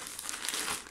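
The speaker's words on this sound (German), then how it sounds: "Dann haben wir hier eine Tüte." A bag from a book subscription package crinkles loudly and continuously as it is handled up close during unpacking.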